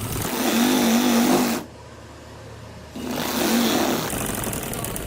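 A sewing machine stitches a sleeve onto a gents' kameez in bursts, running steadily for about a second and a half, pausing briefly, then resuming with a continuous whirring hum close by.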